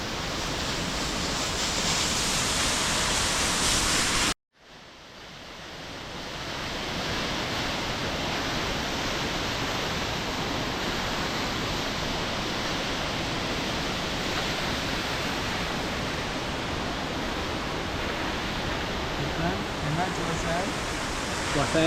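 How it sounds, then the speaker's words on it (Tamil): Jogini waterfall near Manali roars as a loud, steady rush of falling water, constant and broadband throughout apart from one brief dropout early on. "ஸோ அந்த ஃபால்ஸ் தாங்க."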